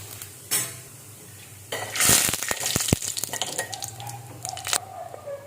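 Mustard seeds, cumin and urad dal dropped into hot oil for a ridge gourd and drumstick curry, bursting into loud close sizzling with sharp popping crackles and clinks of a metal pan, tapering to lighter spitting, no voices.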